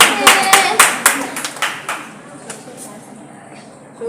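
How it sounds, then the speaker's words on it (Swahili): Scattered hand claps from a few people at a wedding celebration, sharp and fairly close in the first two seconds before thinning out, with talking underneath. "Watu hata huwezi piga makofi."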